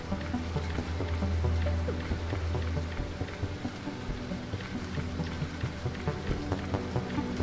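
Steady rain falls in the video game Lorelai, a continuous soft patter of drops with a low ambient hum beneath, no voices present.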